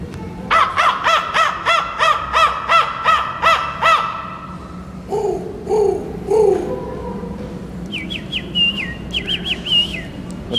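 A man imitating a crow's caw with a rapid series of about a dozen loud, harsh calls, then a few lower caws and some higher chirping whistles, close and clear with little other sound.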